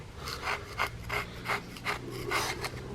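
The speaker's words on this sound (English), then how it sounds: "I just started taking a scraper and just scraping the valve cover." Scraper dragging grime off an LS engine valve cover, a close rasping scrape repeated in regular strokes roughly every third of a second, with no speech.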